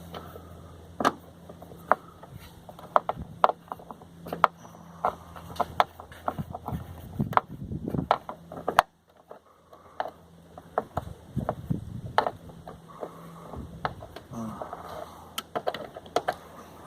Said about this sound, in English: So right now I'm just putting the 10mm bolts back in